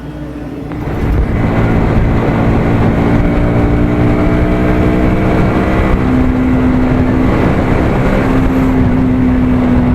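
Motorcycles lined up at Dankuni toll plaza, heard as a loud, steady engine drone with a rising rev early on and a constant road rumble; no voices.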